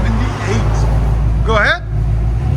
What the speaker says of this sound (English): Nice clean idle on it.